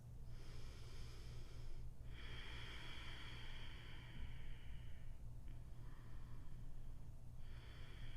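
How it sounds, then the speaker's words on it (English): Slow, gentle breaths through the nose rise and fall in soft airy swells, the inhales and exhales separated by brief gaps over a steady low hum. "Find a gentle rhythm of your breath in and out your nose."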